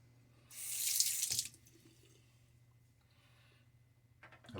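Water from a running tap splashes loudly as a shaving brush is rinsed beneath it for about a second, then stops, leaving quiet room tone with a low hum.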